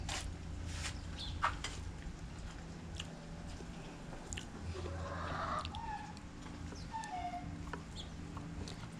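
A hen clucks faintly at a distance, with soft scattered calls over steady low outdoor background noise and no talking.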